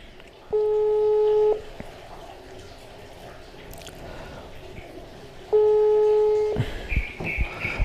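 Telephone ringback tone heard twice while a call waits to be answered, each a steady one-second dual-pitch burst separated by about four seconds of quiet, followed by faint clicks and noise.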